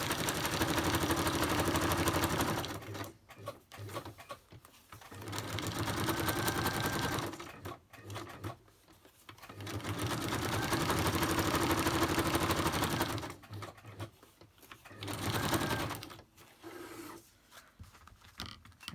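A sewing machine zigzag stitching a photo folder, running in three long steady stretches of whirring with short pauses and start-stop bursts between them, close and fairly quiet.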